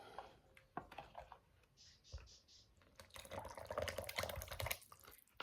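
Buttermilk mixture is poured into a well of flour for buttermilk rusks, giving quiet wet trickling and soft drips that swell into a fuller, messier pour near the end, close and faint.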